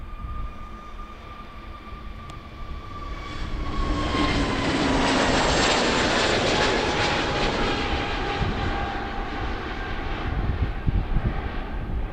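A fixed-wing airliner at Amsterdam Schiphol Airport gives off a steady engine roar that swells midway and then holds, heard from a distance with no talk over it.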